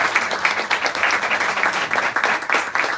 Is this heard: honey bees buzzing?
no